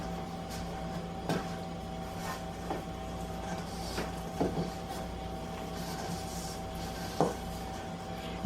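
Peanut butter square ingredients get stirred in a bowl, giving quiet scraping and scattered knocks of a utensil against the dish over a low steady hum, with no talk.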